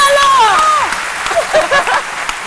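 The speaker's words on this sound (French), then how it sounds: "On applaudit Marie-Florence" A studio audience on a midday TV show claps for Marie-Florence, a short burst of applause mixed with lively voices and cheering that ebbs and swells over a couple of seconds.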